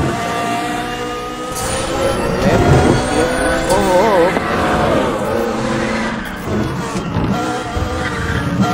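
Car racing at speed in Need for Speed: The Run, a loud continuous engine roar with shifting pitch, tire squeal and skids, while someone talks excitedly over the action.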